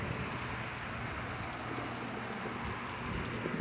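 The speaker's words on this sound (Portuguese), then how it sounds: "Que chuva forte." Heavy nighttime rain pours down amid wind and running water from a roof gutter, forming a steady, soft, even hiss with no break, heard alone without voices.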